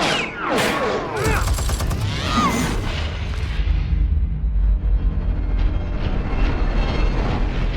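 Rapid machine-gun fire in the Batman: The Enemy Within video game: dense, loud bursts and booms rolling over a deep rumbling background, with sweeping whooshes early on.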